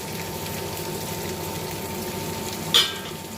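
Curry bubbling in a pan with fried paneer pieces added, a steady low simmering hiss and bubbling, with a single sharp clink near the end, close, with no talking.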